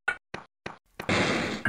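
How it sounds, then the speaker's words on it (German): Door opening in the Prince of Persia video game: three short sharp knock-like thuds in a row, then a heavier clack that runs into a sustained loud grinding, rumbling slide. "Hier öffnen wir die Tür."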